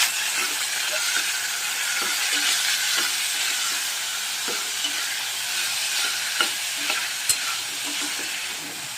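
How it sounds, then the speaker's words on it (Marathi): Vegetables such as peas and cauliflower sautéing with turmeric in oil, a continuous close sizzle broken by soft scraping stirs and a few sharp clinks of a spoon against the pan. "ह्या भाज्या अशा तेलावरती परतायच्या"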